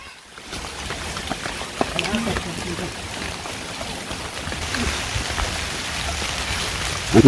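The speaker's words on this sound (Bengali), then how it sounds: "তো বৃষ্টি নেমে গেছে" Steady rain hisses and patters throughout in a village, a dense continuous wash of noise, with faint indistinct voices underneath.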